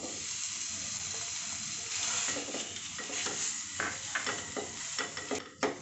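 Mawa (khoa) roasting in a hot pan for gulkand modak gives a soft, close sizzle with scraping stir strokes that grow more distinct toward the end, no talking.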